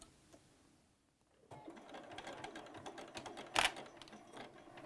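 A sewing machine stitches across a pleat on a fabric face mask, starting after a quiet pause with a rapid, close mechanical patter, plus a brief louder clack near the end.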